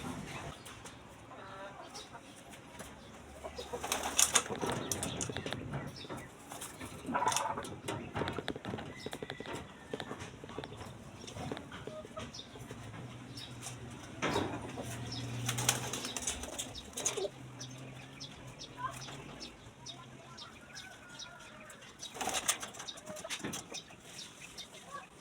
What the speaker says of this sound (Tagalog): Bali, ayan sila mga kalapatids.